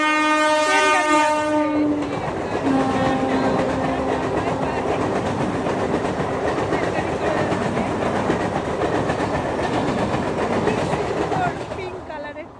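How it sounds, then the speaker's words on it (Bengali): A pink passenger train passes close by, its horn blaring a long steady blast at the start before the rumble and clatter of the wagons take over and roll on continuously to the end. "সুন্দর পিঙ্ক কালারের ট্রেনটা আসে এখানে আসলেই"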